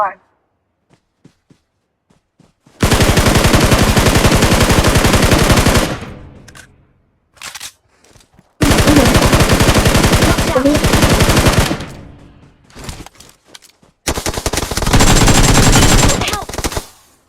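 Automatic gunfire in the battle-royale mobile game PUBG Mobile on the Erangel map, three long sustained bursts of rapid loud shots separated by short gaps and a few scattered single shots.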